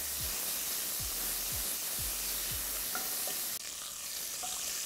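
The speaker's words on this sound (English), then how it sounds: "I'll cook this bacon now until it's nice and golden brown" Pancetta sizzles in a pot with a loud, steady frying hiss and crackle close by, broken by a few soft rhythmic stirring scrapes early on, with no voices.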